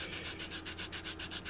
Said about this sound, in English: What we're doing is we're sanding down the high spots.